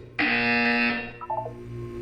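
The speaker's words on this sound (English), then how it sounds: "When you hear the buzzer, look up at the ceiling." A loud electronic buzzer in the video game Portal 2 blares once for about a second, then fades into a short descending run of beeping tones.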